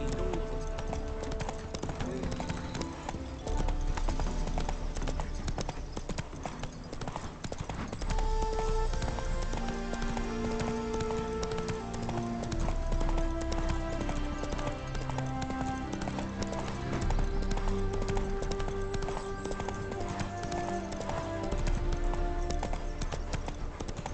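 A horse galloping in The Witcher 3, rapid rhythmic hoofbeats pounding steadily throughout under a game music score, with characters talking over it.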